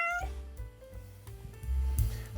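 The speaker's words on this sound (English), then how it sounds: "The cat is at my feet." A hungry house cat meows once, close by at someone's feet in a home kitchen during pizza making, followed by low kitchen rumble and faint clatter.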